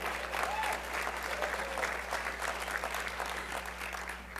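Audience applause with some cheering at a political speech event, steady and dense clapping throughout, fairly loud and sustained with no talk over it.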